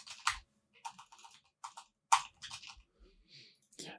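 Close, quiet keystrokes on a computer keyboard type a phrase into a search filter field in an online store's theme editor, coming in short, uneven bursts separated by brief pauses.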